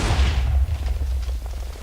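Cannon fire in a video game: a heavy booming blast with a low rumble opens the clip, followed by a series of rapid, sharp thudding shots trailing off, loud and close, with no talk.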